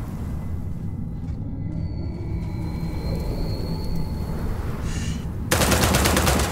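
Rapid robotic gunfire in a sci-fi video game set in space, a steady rattling burst under a constant hum, growing louder and denser near the end.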